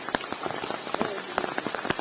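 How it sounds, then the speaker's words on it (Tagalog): Rain falls steadily on land in Samar, Philippines, a dense even patter with scattered sharper drops hitting nearby surfaces. "di ba may kasama pang ulan"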